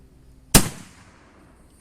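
A single loud, close rifle shot from an Ishapore 2A1 in .308 firing 200-grain cast bullets, a sharp crack with a decaying echo, followed by the onset of another shot at the end.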